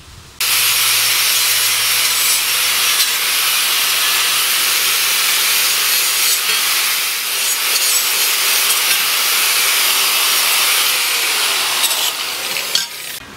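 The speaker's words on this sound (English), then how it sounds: "what I do before I sharpen any blade is I clean it up with a wire wheel" A wire wheel scours a lawnmower blade in one loud, continuous harsh grinding whir that holds steady for about twelve seconds before stopping abruptly.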